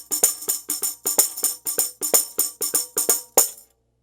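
Fingertip taps on a tambourine held in one hand, Mardi Gras Indian style, sound out a repeating syncopated cinquillo rhythm of crisp jingly strikes, close and unaccompanied, ending on one accented hit.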